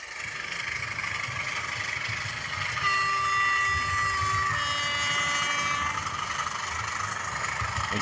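Sound-equipped model railway locomotive on a layout running steadily at moderate volume, with a continuous engine drone and sustained horn-like tones in the middle.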